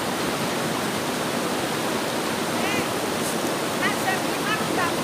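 A fast-flowing river rushes in a loud, continuous broadband roar throughout, with faint bird chirps above it.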